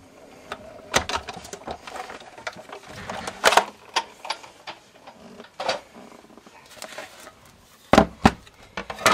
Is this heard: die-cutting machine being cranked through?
yes